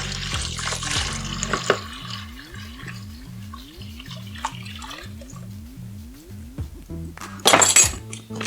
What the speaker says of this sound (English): you're just going to pour that 3 liters of water into the bicarb